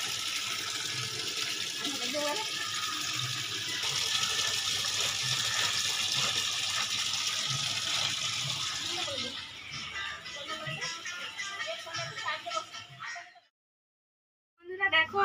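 Soaked clothes are washed under running water, a steady splashing and gushing stream that thins into intermittent sloshing and dripping, then stops briefly before resuming.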